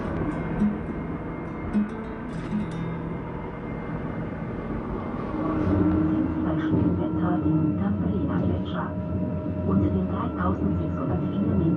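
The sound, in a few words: Bernina Express mountain train of the Rhaetian Railway running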